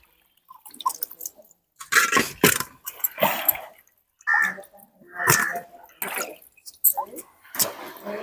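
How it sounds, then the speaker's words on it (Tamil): Raw fish is rinsed by hand in a vessel of water for cooking, giving a series of close, intermittent sloshes and splashes separated by short pauses. "ஃபர்ஸ்ட் 2 தடவை தண்ணியில் அலசிக்குவோம்."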